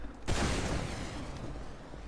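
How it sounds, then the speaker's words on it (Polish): A gunshot in the video game Team Fortress 2: one sudden, loud crack that opens into a long, rumbling, fading tail, with no talk over it. "O! Słyszałem strzał."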